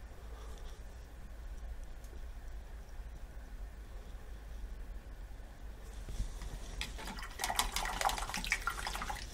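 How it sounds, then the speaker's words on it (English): A paintbrush loaded with acrylic paint is swished and rinsed in a water pot, a quiet steady background that swells into louder splashing and sloshing near the end. "Wash that brush out."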